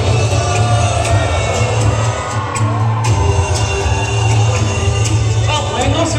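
Crowd noise at a safari park bird show in Dubai, a loud steady wash of audience cheering, whoops and clapping that holds for several seconds, with a brief dip partway through.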